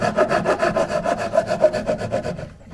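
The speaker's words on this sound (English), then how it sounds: "I'll get this cut done" A hand saw cuts through oak for a box sash window in quick, even back-and-forth strokes, each stroke a rasping pass. The sawing is close and steady and eases off near the end.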